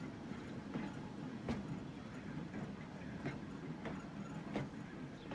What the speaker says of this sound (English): The tram's going through it.